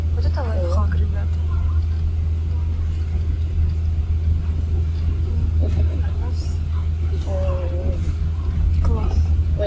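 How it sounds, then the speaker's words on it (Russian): Riding inside a red London double-decker bus on route 243 across a bridge, with a steady low engine rumble and road noise throughout while people talk nearby. "едем на обычном общественном транспорте, автобусе, то бишь красном"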